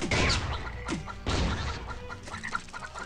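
Clucking chickens in the mobile game Swamp Attack 2, with short cackles mixed with thuds and crashes from the game's action, and no talking.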